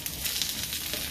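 Tofu fries in a shallow layer of cooking oil with a close, steady sizzle and crackle, no talk.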